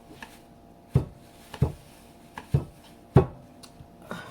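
Knife chopping green pepper on a cutting board in a home kitchen, five or six sharp, close thuds at uneven intervals over a quiet background.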